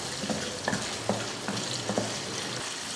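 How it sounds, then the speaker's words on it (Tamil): Potato pieces seasoned with salt and turmeric sauté in hot oil, giving a steady close sizzle broken by several clicks and scrapes of stirring, with no voices. "உருளைக்கிழங்க லைட்டாக உப்பு பிடிக்கிறதுக்காக இந்த மாதிரி வதக்கி எடுத்துக்கலாம்"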